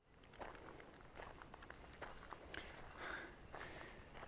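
Cicadas in an Australian forest give a faint, high, pulsing drone that swells roughly once a second, while soft rustling and footsteps sound close by.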